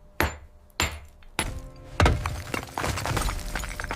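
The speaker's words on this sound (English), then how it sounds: "When his hammer broke through," A hammer strikes a crumbling basement wall of volcanic rock, three sharp separate blows followed by a heavy impact as it breaks through, then a loud spill of crumbling, cracking debris, close and with no talking.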